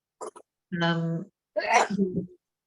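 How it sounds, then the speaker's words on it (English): A short sharp intake is followed by a drawn-out voiced gasp and then a sneeze-like burst trailing into a groan, recorded close and fairly loud on an online call. "bless you whoever sneezed and who's not muted."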